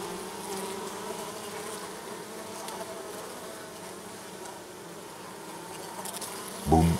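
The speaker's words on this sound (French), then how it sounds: "les abeilles travaillent bien, on les voit descendre, elles arrivent un peu en catastrophe quand même dedans" Honeybees fly in to a hive entrance fitted with Norma boards, a steady close swarm buzz throughout that ends with a sharp knock as one lands.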